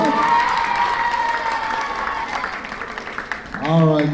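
An audience at a school spelling bee claps and cheers for fourth graders, a crowded burst of applause mixed with shouts and children's voices, closing with a swell of voices as the cheering rises.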